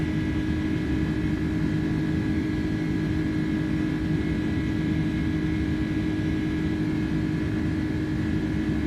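Steady cockpit drone of an American Airlines iniBuilds A310 airliner in flight in Microsoft Flight Simulator, a constant loud engine and airflow hum with a faint whine and no voices.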